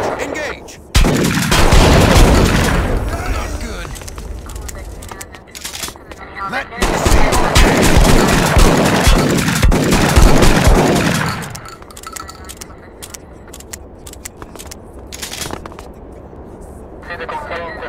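Rapid automatic gunfire from a switch-modified gun in the video game 25 to Life, loud sustained bursts with a pause between, over game noise and someone talking.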